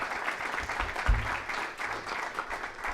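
Applause from trustees and guests at a Tennessee Tech University Board of Trustees meeting in a room, a steady even patter of many hands that carries on for the whole stretch with a brief louder thump partway through.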